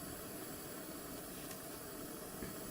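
Rust-proofing product bubbling and sizzling on a hot car or truck exhaust, giving a faint, steady broadband hiss that runs unbroken for the whole stretch.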